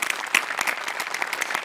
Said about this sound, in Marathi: प्रचंड टाळ्या